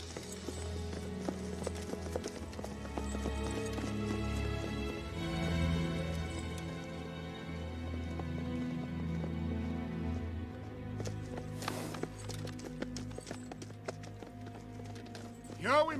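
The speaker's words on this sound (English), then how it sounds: "Here we must leave the horses and climb." Horses' hooves clip-clop steadily on a path, mixed with a dense film soundtrack of music and effects in a mountain action setting.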